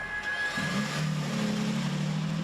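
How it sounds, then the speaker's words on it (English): A hybrid 2023 Toyota Sequoia TRD Pro's gas engine starts up and settles into a steady, rising hum inside the SUV, loud and continuous after a quiet electric motor whir. "there's the electric motor, and then the gas engine kicks on"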